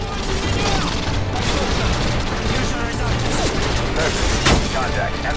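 Continuous heavy gunfire in the Call of Duty: Modern Warfare 2 single-player campaign, loud and dense with overlapping shots and battle clatter, and shouted voices mixed in.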